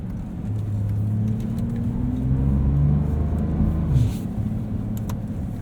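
A 2023 Porsche 911 Turbo S is driven with traction control off at the Porsche Experience Center, its loud engine droning from inside the cabin with rising and falling pitch as it accelerates and shifts.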